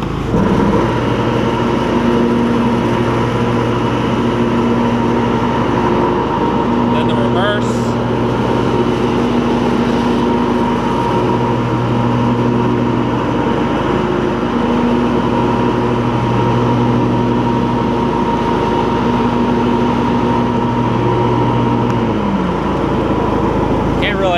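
A John Deere L120 lawn tractor engine running steadily up close, a continuous humming drone with a low buzzy tone that holds for over twenty seconds before dipping slightly at the end.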